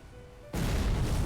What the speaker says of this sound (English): Oh, cannon fire.